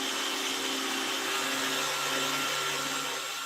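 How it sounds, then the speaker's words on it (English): A massive underground mining jumbo drill rig bores a grid of holes at a heading, giving a loud, steady, broadband grinding roar with constant machine hum and no pauses. "operating a massive jumbo, drilling out dozens of holes in a grid pattern"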